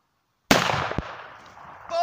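A single loud firearm shot goes off sharply after half a second of silence, followed by a decaying echo and a brief clatter, with a voice starting at the very end.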